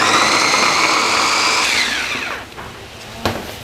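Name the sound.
food processor grinding onions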